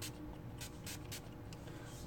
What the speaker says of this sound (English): I'm putting the facial spray on